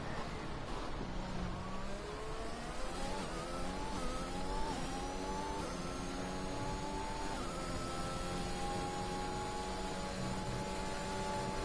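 Aston Martin racing car engine in a racing video game, holding a steady high whine through a lap with gear shifts and rising pitch sweeps, continuous and fairly loud.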